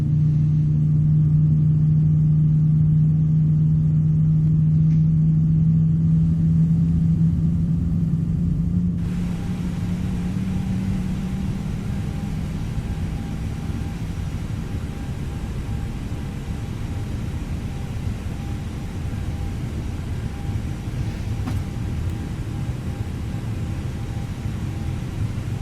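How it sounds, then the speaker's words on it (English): An Airbus A320neo engine spools up during startup in Microsoft Flight Simulator 2020, a deep rising rumble and whine that settles into a steady roaring hum, heard alone with no talk. "What you guys think about the new engine startup?"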